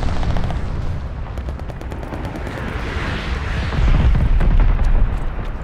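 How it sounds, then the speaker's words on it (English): An enemy glide bomb strike in Call of Duty Vanguard multiplayer rumbles as a dense, continuous roar of explosions and gunfire, heavy and close, swelling louder toward the end with no talk over it. "Heads up, enemy glide bomb coming in hot."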